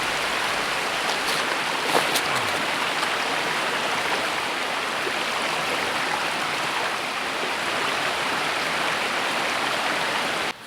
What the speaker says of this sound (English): This is the top of that little mini waterfall.